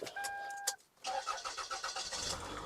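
Toyota Camry 2.4Q being started with its original factory key remote: a short electronic chirp, a brief cranking burst, then a half-second pause before the engine catches first try and settles into a steady idle close by.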